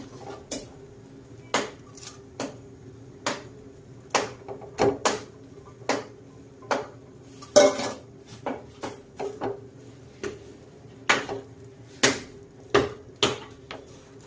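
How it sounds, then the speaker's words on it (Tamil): Rice being stirred into tomato masala in a pan, a spoon scraping and knocking against the pan in irregular sharp clatters over a quiet background. "இந்த சமயத்தில் ரைஸ் சேர்த்து மிக்ஸ் பண்ணி விட்டுக்கலாம்."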